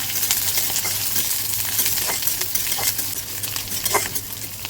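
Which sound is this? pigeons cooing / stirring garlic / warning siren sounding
stirring garlic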